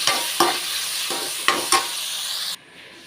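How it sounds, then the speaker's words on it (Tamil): Fresh-cut tomatoes frying in a pan for vegetable kurma, a loud bright sizzle broken by several sharp stirring scrapes, cutting off abruptly near the end. "தக்காளி வந்து நல்லா வதக்கிக்கிறலாம்"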